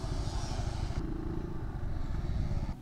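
A Kymco Xciting S 400i motor scooter runs with a steady, close engine rumble and a faint higher whine, the tone shifting slightly before it cuts lower near the end; no talking.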